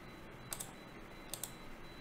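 A computer mouse right-clicks in ArchiCAD: four quiet, sharp clicks in two close pairs spaced about a second apart, over a faint steady room hum with no voices.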